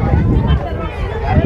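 Strong wind at Pagoda Point in Yercaud buffets the microphone with loud, continuous rumbling gusts, while a person talks over it.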